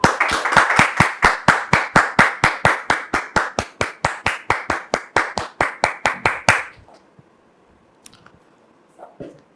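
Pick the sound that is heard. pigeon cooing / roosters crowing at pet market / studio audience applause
studio audience applause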